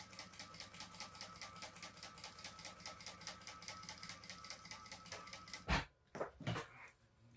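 A sewing machine top stitches down the edges of fabric pieces for a bag, running in a steady rapid mechanical chatter for several seconds before stopping, followed by a few sharp clunks of handling.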